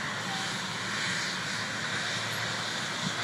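A large airplane at Pearson Airport produces a steady, broad engine roar throughout, fairly loud and continuous, with no talking.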